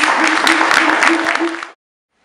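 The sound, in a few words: applause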